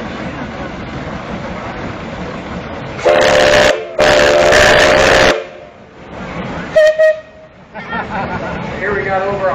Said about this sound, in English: How's the whistle on that one?